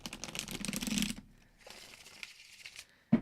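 A deck of tarot cards being shuffled by hand, a dense burst of riffling and flicking for about a second, then quieter rustling and shuffling, ending with a sharp tap.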